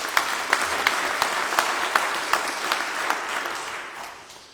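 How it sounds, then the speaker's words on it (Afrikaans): A church congregation claps together at a Sunday service, steady overlapping applause with a few sharper claps standing out, fading toward the end. "Kan ons dalk nou maar net hande klap asof dit nie winter is nie"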